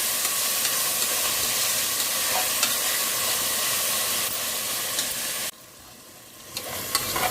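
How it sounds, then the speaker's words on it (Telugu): Half a kilo of chopped tomatoes fries for tomato rice in a pan, a loud continuous sizzling hiss with occasional stirring clicks, close by, then the sizzle suddenly drops to a quieter level and picks up again near the end. "అర కేజీ టమాటాలు కోసాను ఇవి కూడా వేసేస్తున్నాను ఇందులోనే బాగా మగ్గిపోవాలండి"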